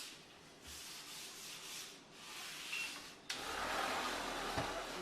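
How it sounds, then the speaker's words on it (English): A white terry cloth towel buffs sealed granite, giving a close, continuous soft rubbing hiss in long sweeping strokes that grows louder and steadier near the end, with no talk. "You buff with the white terry cloth towel"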